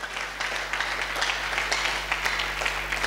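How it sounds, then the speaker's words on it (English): A congregation at a prayer service applauds in praise, producing continuous moderate clapping over a low steady hum. "Give Jesus a clap of praise."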